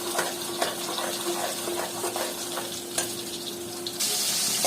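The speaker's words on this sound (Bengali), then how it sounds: "দেব মরিচ, এরপরে দেব হলুদ, দিয়ে এগুলো সব একসাথে কষায় নেব।" Spices with chili and turmeric fry in a pan for a cauliflower and fish dish, a continuous close sizzle with occasional stirring scrapes that grows brighter and louder near the end.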